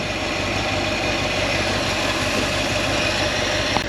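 A Ford F250 truck's 352 V8 engine with a carburetor idles steadily, warmed up, with a deep, even rumble and a constant low drone, running alone with no voices.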